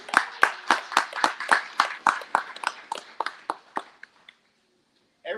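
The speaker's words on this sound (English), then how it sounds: "All right, let's give ourselves a round of applause" A small group of graduates at a brake and lamp inspection course clap for themselves, sparse distinct handclaps in a loose rhythm that slow and stop after about four seconds, followed by silence.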